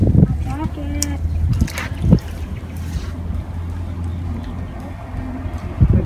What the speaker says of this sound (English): So right now they're just guiding the boat along the edge here.